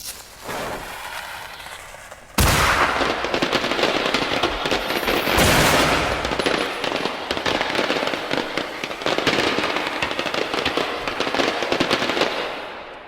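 A rapid burst of firework crackles and pops in the video game Generation Zero erupts after a brief quiet start, then keeps sputtering loudly and densely for about ten seconds.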